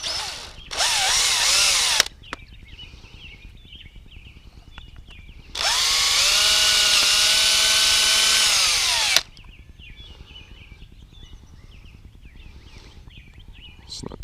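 Power drill boring a hole for a 1/4-inch by 20 bolt while building a DIY kayak camera pole, with a short burst of about a second, then a longer steady whine of around four seconds, close and loud.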